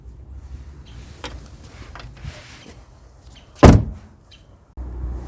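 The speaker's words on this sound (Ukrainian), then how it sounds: "Ми вставляємо наш ключ в прорізь і повертаємо управо до щелчка." A few faint clicks and rattles, then one sharp, loud mechanical clunk as a mechanical key turns in a Ford car door lock, followed by quiet handling noise.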